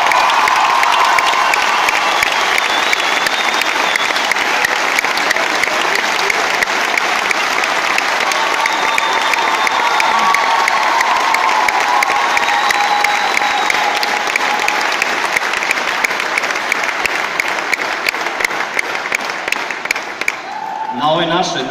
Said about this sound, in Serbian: Sada kad smo aplauz dobili više puta večeras